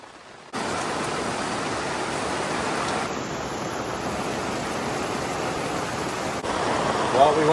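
Heavy rain pours down at a cabin campsite in Forillon National Park on Quebec's Gaspé coast, a dense, steady hiss that starts abruptly and stays loud and even throughout, with no voices.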